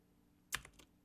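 A few keystrokes sound on a computer keyboard, a soft cluster of clicks after a quiet start. They are close but faint, with no talking over them.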